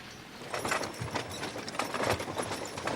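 Horses pulling a wagon train along a hot, dusty dirt trail in eastern Oregon make close, steady clip-clop hoofbeats in an uneven rhythm over faint background noise.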